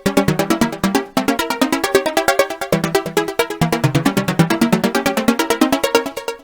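A MeloDramatik sequencer pumps out a loud, dense heavy techno pattern of rapid, evenly spaced synth hits over a steady driving pulse, with shifting tonal notes and a brief gap near the one-second mark.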